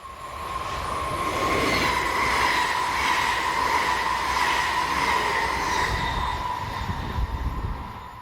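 A Stadler Class 445/446 double-deck KISS train operated by Westfalenbahn rolls past, a steady rumble of wheels on rails with a sustained squealing tone, swelling and holding loud for several seconds before easing off.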